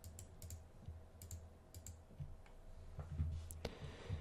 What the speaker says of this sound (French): J'espère que les clics de souris ne sont pas trop gênants.